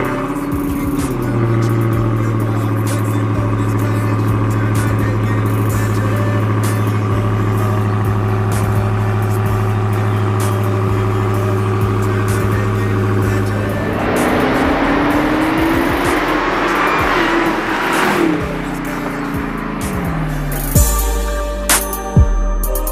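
A 2020 Dodge Charger Hellcat Widebody drives with a steady engine drone, then revs and accelerates in a rising surge midway before settling back, loud and close throughout.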